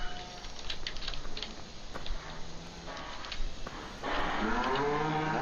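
Cows low inside a cow barn in the Farming Simulator 2015 video game, with a few moos rising over a dense bed of game ambience and soft clicking, growing louder toward the end.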